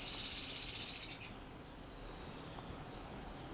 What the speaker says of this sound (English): Can you hear the birds chirping, guys?